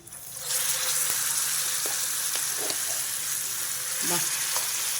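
Gongura leaf chutney hits hot oil tempering with a sudden loud, steady sizzle that continues strongly, with a few soft clinks of a spoon against the pan along the way.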